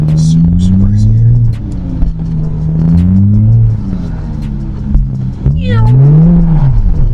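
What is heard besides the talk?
single-turbo BMW E92 engine revving while drifting on frozen lake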